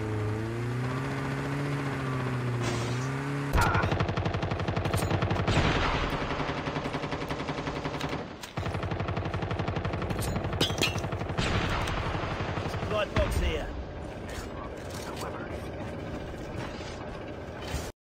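Light machine gun fire in the mobile shooter Call of Duty Mobile, dense rapid bursts that run almost continuously, loud and up close, with game sounds layered underneath.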